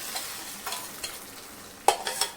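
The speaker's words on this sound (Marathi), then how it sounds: "ही डाळ याच्यामध्ये फोडणीला टाकायची" Cooked dal is poured into a hot tempering with tomato and gives off a continuous soft sizzle. A few light scrapes come from stirring, and a sharper clatter follows near the end, with no voices.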